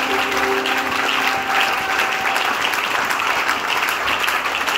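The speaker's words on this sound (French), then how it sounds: "Acclame pour Jésus." A church congregation applauds during worship, with dense and even clapping for the whole stretch, loud and close, and a few held tones ringing under the start.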